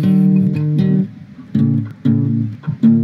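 A chord progression played as a series of sustained chords, each struck and held briefly with short gaps between, close and fairly loud, somewhat out of tune, no voices.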